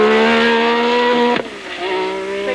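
A turbocharged Renault Elf Formula 1 car of about 550 horsepower screams past at Circuit Paul Ricard, a loud, high-pitched engine note dropping sharply in pitch mid-pass before holding a lower, steady tone.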